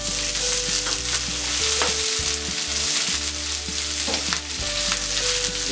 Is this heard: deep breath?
no